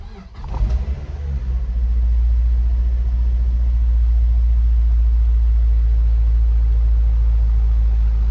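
Mazda MX5 Miata engine cranking briefly, catching, and settling into a steady low idle rumble that holds loud and close for the rest of the clip.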